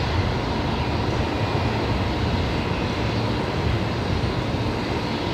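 Steady, loud broadband roar from an Airbus A330neo airliner on the runway at Brisbane Airport, continuous jet engine noise with no break.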